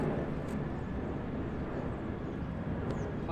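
An airplane passes overhead on a disc golf course, its engine a steady broad rumble and hiss held evenly throughout, with light wind noise at the microphone.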